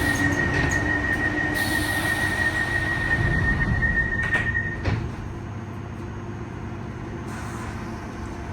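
A northbound London Underground Piccadilly line train rumbles loudly along the track with high metallic wheel squeals, then the noise settles into a steadier, quieter running roar with no voices.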